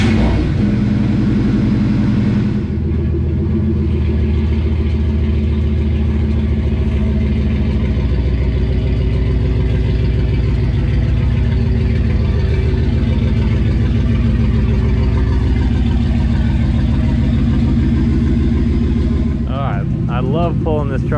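A vehicle nicknamed Gramps, a boosted truck, idles with a steady low engine rumble throughout, with slight revving swells, while a person talks over it.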